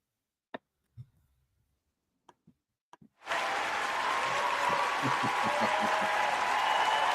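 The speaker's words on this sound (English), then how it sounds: "let's just give a round of applause for episode 40" An applause sound effect bursts in after a few scattered clicks and taps, then a dense, loud wash of crowd clapping and cheering carries on steadily to the end.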